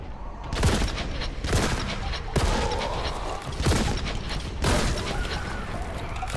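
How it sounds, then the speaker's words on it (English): A shotgun fired repeatedly in the video game Warhammer 40,000: Boltgun: about five loud, booming blasts at roughly even intervals, each followed by a rumbling tail over continuous game noise. "Close quarters, time for shotgun."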